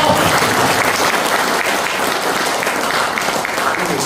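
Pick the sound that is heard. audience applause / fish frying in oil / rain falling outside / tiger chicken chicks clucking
audience applause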